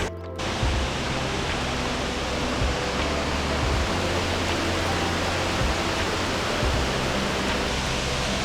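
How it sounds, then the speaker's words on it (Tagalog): Whangarei Falls, a waterfall on the Hatea River in New Zealand, roars as a steady, dense broadband rush of falling water, loud and continuous throughout with no talking. "Ito yung Whangarei Waterfalls."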